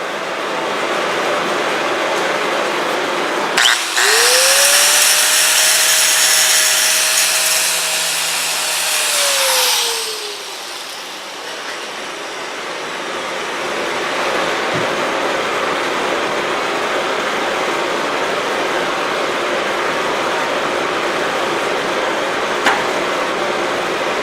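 An angle grinder cleans up a cast iron weld laid with 7018 low-hydrogen stick rod. It spins up sharply, grinds loudly with a steady whine for about six seconds and then winds down, leaving quiet room noise.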